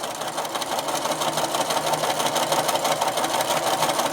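A sewing machine stitches raw edge appliqué onto fabric, producing a fast, steady mechanical whir with a rapid needle rhythm, close and continuous from start to finish.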